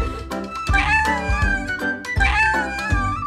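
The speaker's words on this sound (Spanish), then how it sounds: "¡Escuché al gatito!" A kitten meows twice in loud, drawn-out cries, each rising and falling, close and clear with no talk over them.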